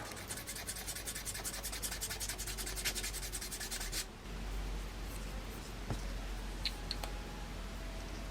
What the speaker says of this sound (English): I'm going to use some sanding paper and rough this up a bit.